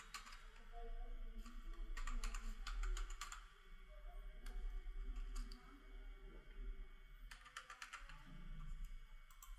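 Keystrokes on a computer keyboard as a user ID is entered into an offline income tax return filing utility, coming in quick bursts of clicks over a steady background hum, with no talking.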